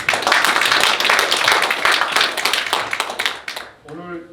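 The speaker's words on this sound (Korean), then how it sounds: "다시 한번 큰 박수로 맞이합니다" An audience at a Korean education agreement signing ceremony breaks into dense, sustained applause that fills the room at close range, then fades as a voice starts speaking at the end.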